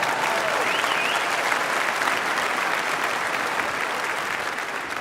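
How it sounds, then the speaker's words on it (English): A church congregation applauds during a sermon, a dense, steady wash of clapping that holds evenly for several seconds before tapering slightly at the end. "that applause is for Jesus, who's the Alpha and the Omega"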